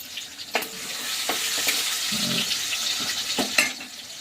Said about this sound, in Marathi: तेल तापल्यानंतर त्याच्यामध्ये आपण ठेचलेला लसूण आणि मिरची